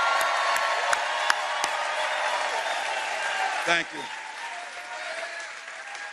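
Applause and cheering from a crowd at a political rally at the Orange Peel venue in Asheville, a steady loud wash of claps with a few sharp whoops, briefly broken by a voice before fading to a lower level.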